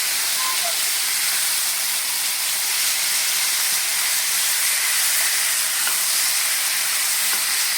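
Chicken legs sizzle in butter over a high flame, a steady, loud, bright frying hiss that runs unbroken throughout with no talking.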